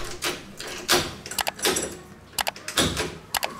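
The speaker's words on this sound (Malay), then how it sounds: "Sekarang cuba test pusing tombol pintu dan juga test guna kunci." A newly installed door knob is turned and tested with a key, giving a series of sharp metallic clicks, latch snaps and rattles in uneven bursts close by.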